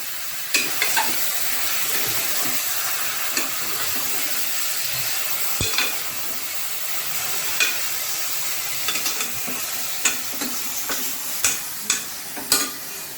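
Fish drops into hot oil in a pan for a Kerala-style fish molly, setting off a steady, close sizzle and hiss with scattered sharp pops and clinks of stirring throughout.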